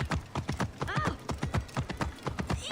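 Horse hooves clip-clop in a quick, even rhythm in Assassin's Creed Origins, close and clear, with a brief whinny partway through and faint game sounds around them.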